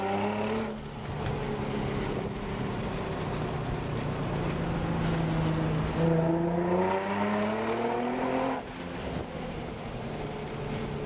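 A car engine close by holds a steady drone, rises in a revving sweep, then drops away as the motor dies, with no talk over it.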